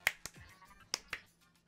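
Sharp hand claps trigger a clap-on light system in Pokemon Scarlet: four crisp, close claps in an irregular pattern, two early then two later, alone with no talk.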